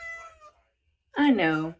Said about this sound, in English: my cat is trying to get in the tub